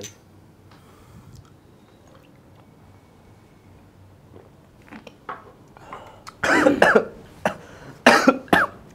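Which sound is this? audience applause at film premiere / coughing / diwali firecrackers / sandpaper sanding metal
coughing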